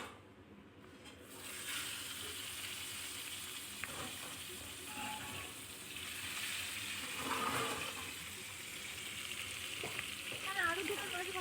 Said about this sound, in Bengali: যতক্ষণ মাছগুলো ভাজা হচ্ছে ততক্ষণ আমরা একটু অপেক্ষা করবো।